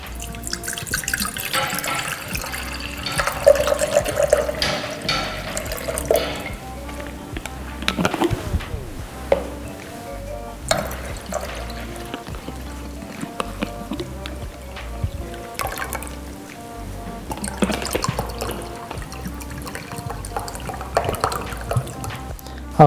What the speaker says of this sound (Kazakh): Ең алдымен біз дистилденген суды шыны ыдысқа құямыз,